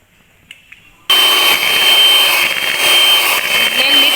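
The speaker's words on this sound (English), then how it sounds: "Blend it properly with an electric mixer." An electric mixer whisking eggs for brownie batter in a home kitchen switches on abruptly and then runs as a steady, loud, close whir; a couple of faint clicks come before it starts.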